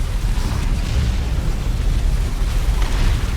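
Orbital strike explosions in the video game Dawn of War 2, a loud continuous rumbling barrage of booms with no talk over it.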